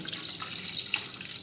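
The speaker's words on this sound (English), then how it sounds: "So now I'm just going to add some cold water to it, just to make the process easier" Cold water runs from a kitchen tap over steamed codfish in a Jamaican kitchen, a steady bright hiss and splash with faint dripping accents, heard alone at close range.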